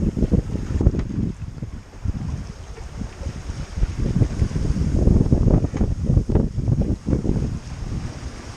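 A Nova 28 sailboat named Connie running dead downwind along a coast, with loud gusting wind buffeting the microphone and a churning rush of water beneath the hull, swelling and easing in waves.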